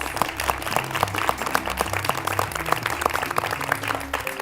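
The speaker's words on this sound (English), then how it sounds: "Give yourselves a big round of applause." Dense clapping from a TV studio audience, steady and fairly loud throughout with a faint tonal bed underneath.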